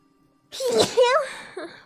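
One close, sudden human sneeze with a quick inhaled build-up and a sharp burst, followed by a brief trailing vocal sound.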